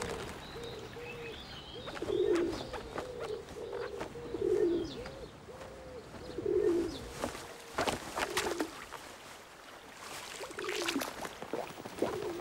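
Pigeons coo softly and rhythmically on a river beach, several repeated low calls spaced a couple of seconds apart against faint outdoor ambience with scattered clicks and rustles.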